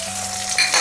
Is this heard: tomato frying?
yes